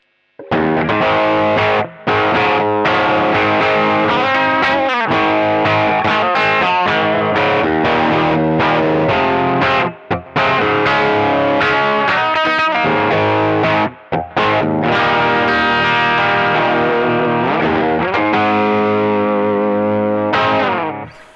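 An SX 335 semi-hollow electric guitar runs through a Tube Screamer overdrive pedal, giving a dense, gritty, sustained stream of chords and lead notes, loud and continuous with only a few short breaks.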